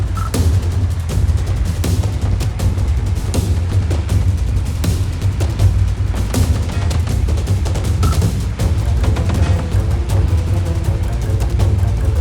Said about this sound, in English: The Hind is right on his tail, firing non-stop.